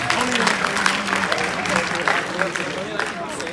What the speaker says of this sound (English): you can give yourself a round of applause on that